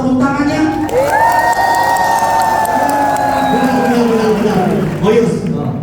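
A lively crowd at a parish comedy opera anniversary show applauds and cheers, with a long sustained shout ringing above steady clapping for several seconds before fading slightly.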